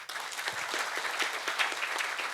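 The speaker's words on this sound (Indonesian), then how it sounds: "Sekali lagi beri tepuk tangan buat Haji Andi Bawono." A gathered audience gives steady, sustained applause for a guest at a community event, many hands clapping together at an even level throughout, with no talking.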